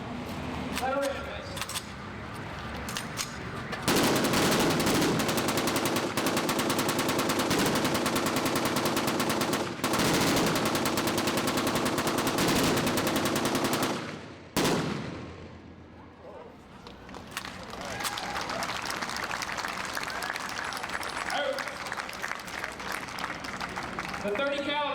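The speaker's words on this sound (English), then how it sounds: "The 30 caliber machine gun was a highly effective weapon." M1919 .30 caliber machine gun firing at a D-Day anniversary event at a WWII museum: long loud sustained bursts, a brief pause, then more rapid fire, heard from nearby outdoors.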